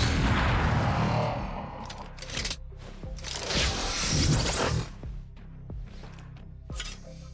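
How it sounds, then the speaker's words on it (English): Chamber's Tour de Force sniper rifle firing in Valorant: a few heavy, booming shots with sharp cracks and lingering mechanical rattles, loud and close, with no voices. "I could listen to Chamber shooting his tour de force like all day long"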